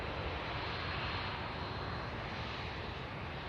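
Boeing 787 Dreamliner jet engines at Manchester Airport give a faint, steady broadband roar that holds evenly throughout, heard from a distance with no voices.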